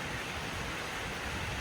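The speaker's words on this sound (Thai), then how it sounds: "ฝนตกแล้วจ้า" Morning rain falls steadily, a dense, even hiss of drops with no pauses or voices, close and constant throughout.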